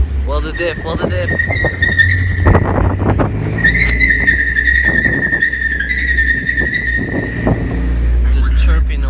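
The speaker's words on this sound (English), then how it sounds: "Just chirping away. Hella loud." A Miata with a welded differential gives repeated high-pitched tire chirps and squeals while turning, over a steady engine rumble, with people talking loudly throughout.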